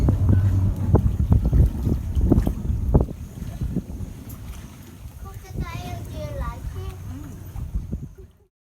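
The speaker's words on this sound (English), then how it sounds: "the wind's just blowing me on here" Wind buffets a small river boat on a crocodile tour of the Proserpine River, a loud low rumble for about three seconds that eases into a softer hiss with faint chirps in the background.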